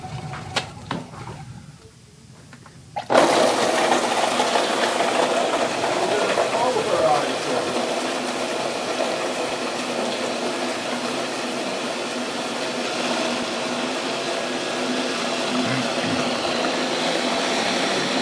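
Warm water runs from a tap to rinse an ice cream maker after a batch made with Milky Way bars. After a quiet start, a steady, loud rush of water continues without a break.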